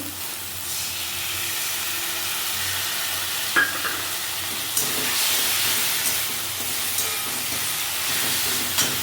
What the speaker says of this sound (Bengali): এবার এর মধ্যে একটু তেঁতুলের কাপ দিয়ে দেবো।